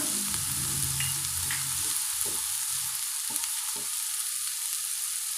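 Onions sauté in a pan for beetroot poriyal, giving a soft, even sizzle with a few low stirring thumps and occasional spatula taps at moderate distance.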